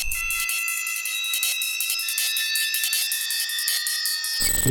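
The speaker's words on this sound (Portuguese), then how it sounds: "E aí tenho mais uma dissonância aqui" A dissonant synthesizer tone holds steady for several seconds in an electronic track, loud and sustained with a bright layered timbre, then cuts off abruptly near the end.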